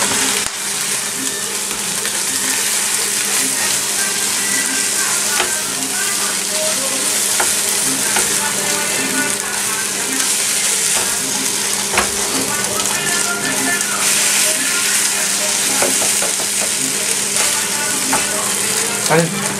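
Chilaquiles with melting cheese hiss and crackle in a frying pan while being stirred, a loud, steady sizzle with scattered scrapes and clinks of the utensil, a faint hum underneath and no clear talk.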